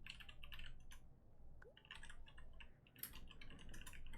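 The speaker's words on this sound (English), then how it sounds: "I don't even want to be typing here." Rapid typing on a computer keyboard during a Total War: Warhammer stream, with irregular clusters of clicks that come and go over a steady background hum.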